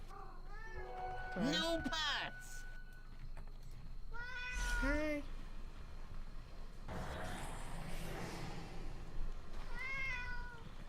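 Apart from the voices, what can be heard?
cat meowing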